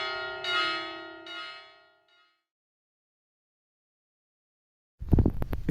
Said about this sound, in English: this belfry houses 4 mechanized Italian bells, producing notes that resonate as Do, Re, Fa, and Sol